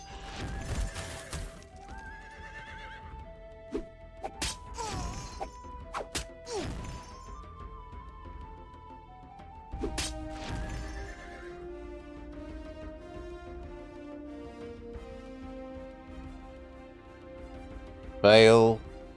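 Horses in the fantasy strategy game Age of Wonders 2 neigh and whinny repeatedly amid clip-clopping hooves and sharp combat thwacks, with a loud final whinny near the end; a voice talks over parts.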